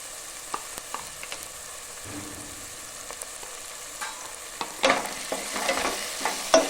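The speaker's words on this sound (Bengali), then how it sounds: "আদা রসুনটাকে ভালো করে আমি কষাতে থাকবো।" Ginger-garlic paste frying with well-browned onions in a pan for a mutton and potato curry: soft stirring scrapes over a low sizzle that grows louder and busier toward the end, with no talking.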